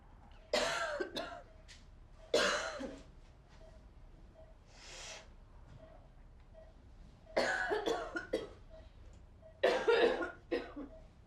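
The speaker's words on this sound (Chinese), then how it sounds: "我咳嗽" A patient with isolation symptoms in a drama coughs in four harsh, separate fits close by, while a soft electronic beep pulses steadily in the quiet room between them.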